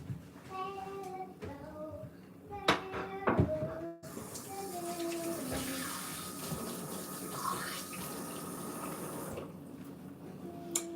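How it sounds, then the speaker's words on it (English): Hands are washed under a running kitchen tap: after a few brief clinks and tonal sounds, water gushes steadily into the sink for several seconds, then it eases off near the end. "I'll wash my hands."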